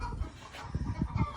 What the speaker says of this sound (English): Don't mind the chicken.